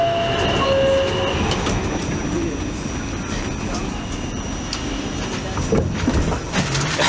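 A New York City subway train near W. 4th Street rumbles loudly and steadily from inside the car, with a high metallic whine near the start and muffled voices in the background.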